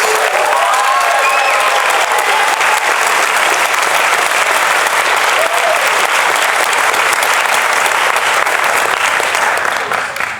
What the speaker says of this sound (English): Let's give one more round of applause for all our remarkable seniors.